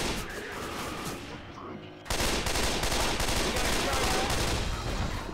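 Gunfire in Left 4 Dead 2, in a swamp campaign: a short lull, then a sudden burst of rapid automatic shots hammering continuously for several seconds, loud and dense.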